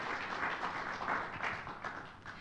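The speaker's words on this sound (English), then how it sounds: "let us give a big round of applause to our distinguished experts this evening, Tyler Fleming and Gerri Walsh." Audience at an evening panel discussion on finfluencer regulation applauding the expert panellists, a sustained, moderately distant wash of many hands clapping that fades slightly toward the end, with no voices over it.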